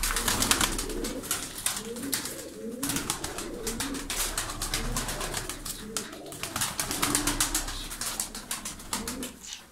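Tumbler pigeons coo repeatedly and steadily up close, with soft rustling and brief wing flutters mixed among the birds.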